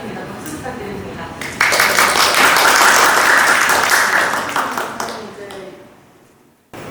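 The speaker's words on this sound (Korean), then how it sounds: "박수 부탁드립니다." An audience at a group art exhibition talk bursts into applause after quiet speech, swelling to a full, close round of clapping that gradually fades away over several seconds.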